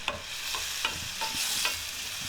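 Finely chopped large onion frying in hot oil in a pan for egg samosa filling, a steady sizzle broken by regular stirring scrapes and clinks.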